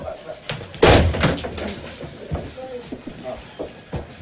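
A door is forced open during a police raid on a house in Quezon City, a single loud slam-like impact followed by rattling and scraping, with voices heard in the background.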